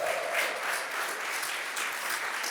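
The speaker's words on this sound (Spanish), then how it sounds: "Fuerte ese aplauso." A church congregation claps steadily for a few seconds, a dense, moderately loud wash of hands filling the room with no voices standing out.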